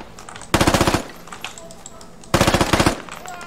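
Two bursts of rapid rifle gunfire in a video game, each a loud run of closely spaced shots lasting about half a second, separated by a quieter stretch of game ambience.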